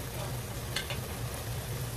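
Butter sautéing in a pan for pork stroganoff, a continuous soft sizzle and crackle with a brief scrape of stirring partway through.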